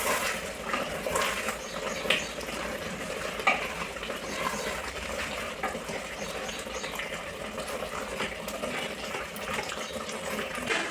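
Gongura mutton curry with masala is stirred in a pan, a steady close sizzle with wet scraping and slapping of the spoon through the thick curry, no voices.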